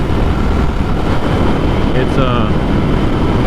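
Heavy wind roar buffets a rider at interstate speed on a KTM Duke 890R naked motorcycle, a loud, steady broadband rush filling the whole clip with constant gusting texture.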